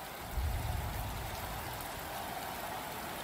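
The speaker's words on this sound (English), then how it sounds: "it has been raining for a few hours now and it doesn't look like it will stop anytime soon" Steady rain falls on the Indianapolis circuit in the MotoGP 23 video game, a continuous even wash of drops with a low rumble near the start and no voices.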